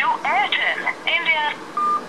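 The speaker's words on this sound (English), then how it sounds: "I am making a phone call so it's working" A short run of electronic phone call tones from a Sony Xperia Z5, several brief beeps in quick succession ending on a steady single tone, close and clear.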